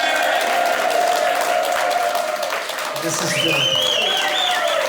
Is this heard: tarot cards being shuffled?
no